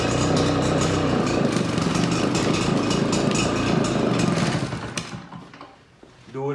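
A small power-equipment engine, primed with its bulb, catches and runs rough and loud up close for several seconds, then sputters and dies before a brief new pull or restart sound.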